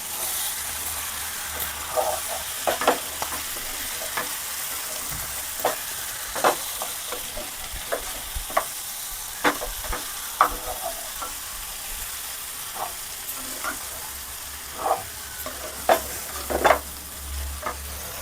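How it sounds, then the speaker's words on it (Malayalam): Beef perattu fries and sizzles in a pan while being stirred, with a steady hiss beneath repeated sharp scrapes and clinks of a spoon against the pan at an uneven rhythm, close and fairly loud throughout. "നമുക്ക് നന്നായിട്ട് ഇത് ഇളക്കി കൊടുക്കാം"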